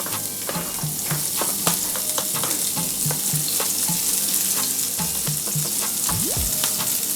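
Chopped onions sizzle steadily in a hot pan for shrimp fried rice, a bright continuous crackle with repeated scraping stirs and a few clinks of the utensil, no talking.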